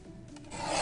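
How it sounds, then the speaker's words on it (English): A short rasping, scraping rub while a card panel for a light-up candle card is trimmed, steady and close, growing louder and brighter toward the end, with no voices. "I'm going to trim this down to 4"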